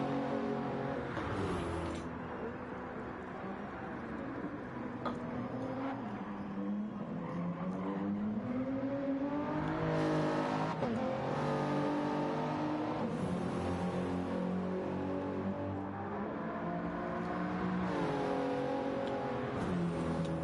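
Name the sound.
BMW race car accelerating at Monza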